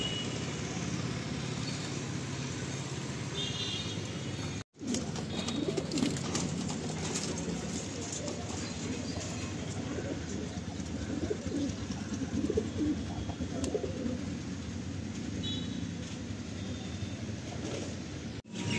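Madrasi pigeons coo repeatedly inside a loft, a steady low cooing chorus heard close with faint traffic behind and some talk.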